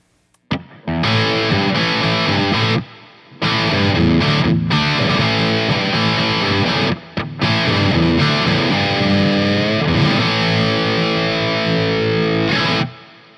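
Distorted electric guitar through a Carvin V3M amp with reverb, riffing in bursts separated by short pauses, with a lingering reverb wash filling the gaps, loud and sustained.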